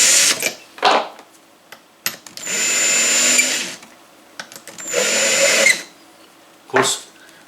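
Power drill spinning a trimmer on brass .223 rifle cartridge cases, several loud whirring bursts of a few seconds each separated by short pauses and clicks, close up with no talk.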